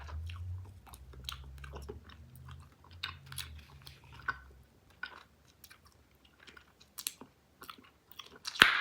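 Bazooka bubble gum chewed close to the mic in a quiet room: steady soft wet clicks and smacks, a low rumble in the first half, and a sharper pop near the end.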